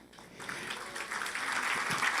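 An audience claps at the re-opening of a retreat centre, a soft patter of applause swelling from quiet to fuller over a couple of seconds, somewhat distant.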